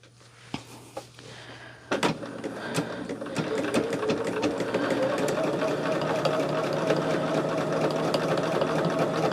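A sewing machine starts with a few clicks, then settles into steady continuous stitching along quilt seams. The whirring is close and fairly loud.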